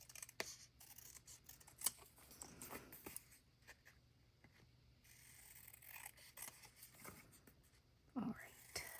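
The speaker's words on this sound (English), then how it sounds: "Then this, we just have to do a little fussy cutting too" Scissors fussy-cut paper for a bullet journal spread, giving a run of quiet close snips and scraping paper rustles with irregular pauses, and a voice breaks in briefly now and then.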